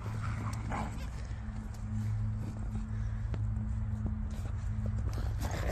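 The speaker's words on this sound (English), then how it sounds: "Whippets also like to play very loud games with each other." Whippets romping together with scuffling paws and occasional yips over a steady low hum, lively and continuous throughout.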